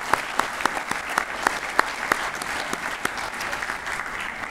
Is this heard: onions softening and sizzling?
no